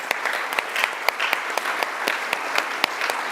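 Audience applause at a university democracy forum hosting an Ontario Liberal leaders' debate: steady, dense clapping from a hall crowd with sharp individual claps standing out, sustained at an even level throughout.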